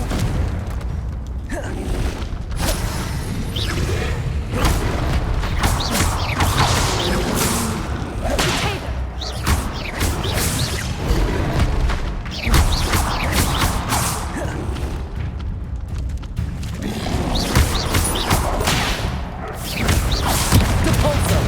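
Confringo fire-blast spells burst during combat in Hogwarts Legacy on PS4: repeated whooshing casts and crackling explosive impacts, loud and busy throughout, with no one speaking.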